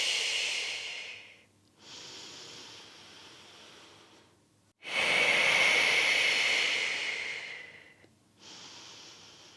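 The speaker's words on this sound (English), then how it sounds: "Exhale and inhale" Slow Pilates breathing: long, airy exhales and inhales alternate in a steady rhythm, each breath a few seconds long with brief pauses between, close and soft.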